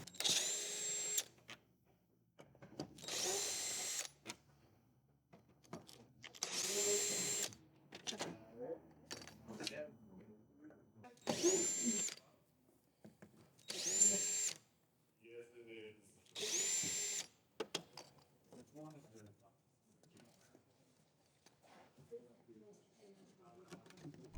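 A power drill drives out the side panel screws of a hot tub in about six sharp, loud whirring bursts. Quieter handling noises and talk fill the gaps between bursts.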